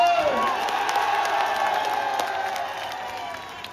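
Large crowd at a Congress party rally in Mustafabad cheering and applauding steadily, a dense continuous roar of claps and shouts that fades slightly toward the end.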